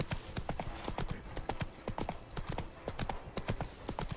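A horse gallops in the video game The Witcher 3: Wild Hunt, its hooves striking in a fast, steady clip-clop rhythm, close and continuous over faint background sound.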